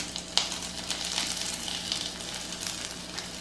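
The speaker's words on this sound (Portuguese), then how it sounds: "Aí vem mexendo levemente assim, ó, pra ela fritar do outro lado também." Banana slices and bacon fry in a new pan, a steady close crackling sizzle with scattered sharp pops and a faint stirring scrape, with no talk.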